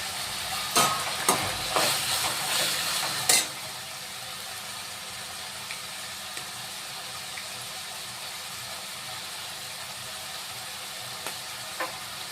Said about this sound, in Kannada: ಟೊಮೊಟೊ ಮತ್ತು ತರಕಾರಿ ಸ್ವಲ್ಪ ಆಯಿಲಲ್ಲಿ ಫ್ರೈ ಆಗಲಿ ಇದು.